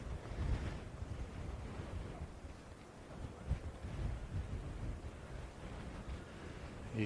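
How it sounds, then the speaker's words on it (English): Strong wind blowing across an exposed golf course on the west coast of Scotland during a live tournament final, a steady loud roar of gusts buffeting the microphone for the whole stretch, with no voices. "It's windy."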